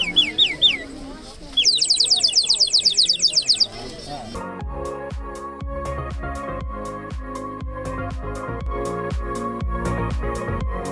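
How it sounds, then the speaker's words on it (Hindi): A clay bird-shaped water whistle, bought as a souvenir near Kodaikanal's pine forest, gives a few short chirps and then a fast, loud warbling trill. Rhythmic music follows for the rest of the stretch. "उसके अंदर पानी बहुत, चिड़िया की आवाज़ निकाल दी।"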